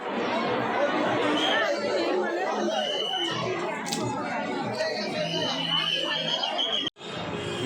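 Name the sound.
large crowd of devotees at Pune Ganesh festival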